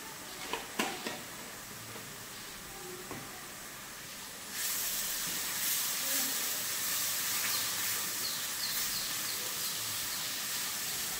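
Water with tea leaves boiling in a pot, a steady faint hiss and bubbling that grows louder midway and continues, with a few soft clinks early on.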